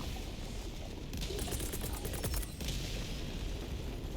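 Walking barrage artillery strike in Helldivers 2, a dense continuous rumble of explosions with crackling bursts and rapid gunfire mixed in, loud and sustained throughout.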